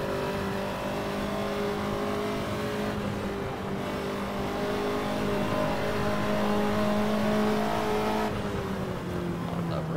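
Ferrari 288 GTO engine in the Assetto Corsa racing game, droning steadily at high revs with layered harmonic tones that rise and dip through gear changes, loud and continuous for the whole stretch with no talk over it.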